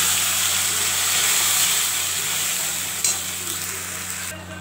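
Onions browned red in a pan, with spices just added, sizzle loudly and steadily while being stirred, a continuous frying hiss with occasional scrape of the spoon, no talking.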